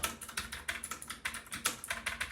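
Rapid, fairly loud keystrokes on a rainbow-backlit computer keyboard, clicking in an uneven typing rhythm close to the listener, with no voices.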